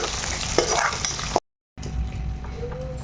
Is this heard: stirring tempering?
yes